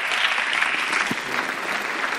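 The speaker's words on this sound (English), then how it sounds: "Let's give him a round of applause." An audience at a worship concert applauds a musician with a loud, dense burst of clapping that holds steady for a couple of seconds, close and full, with no speech over it.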